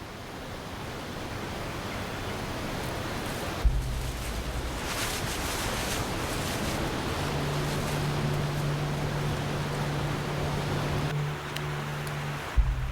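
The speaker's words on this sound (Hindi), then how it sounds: "पानी की आवाज की दिशा में आगे बढ़ते हुए" The Kali Gandaki river flows through a mountain valley as a steady, broad rushing of water, continuous and fairly close, with a faint low drone coming and going underneath.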